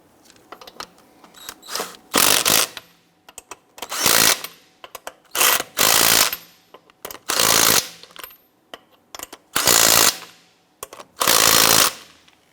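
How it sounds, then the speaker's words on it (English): Impact wrench bursts tighten lug nuts on a 2015-2020 Cadillac Escalade during front lower control arm replacement, six loud separate whirring rattles of about a second each with short quiet pauses between. "Once these are all on, we'll go ahead and snug them down."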